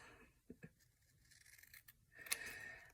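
Small scissors snipping paper for fussy cutting in a handmade journal, a few close, quick crisp cuts with a short pause between them, then a brief louder rustle at the end, with no talking.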